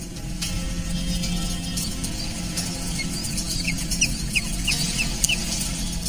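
Breeding penguins in a large nesting colony of about 200,000 birds call in a busy outdoor chorus, with several short high squawks rising above a dense, steady wash of distant calling.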